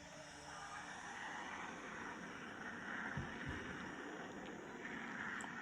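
Jet engine roar of a Sukhoi SU-27 fighter in the Roblox flight game PTFS, a steady, moderately loud broadband whoosh holding constant throughout with no talking.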